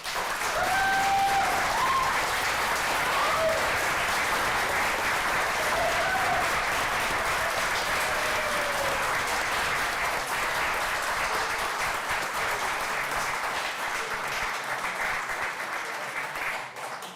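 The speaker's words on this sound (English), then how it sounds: "let's give these firefighters a round of applause" Meeting audience at a county supervisors' session applauding firefighters, a long, even round of many hands clapping that holds steady and loud before tapering slightly at the end, with a few faint voices in the background.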